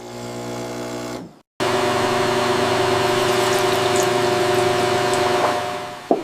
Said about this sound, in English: Vacuum filtration rapidly collects our precipitate.